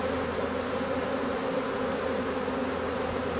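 Honey bees hum in a dense, continuous buzz as they file back into their hive, a steady swarm drone heard close up without any voices.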